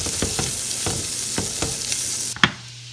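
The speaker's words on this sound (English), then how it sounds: "So I add my butter in here, and I'm just gonna mix it with the sauces" Butter sizzling in a pan with leftover sauces from cooked salmon, a steady close hiss broken by several rhythmic spoon scrapes, then a sharp clatter before the sizzle quiets.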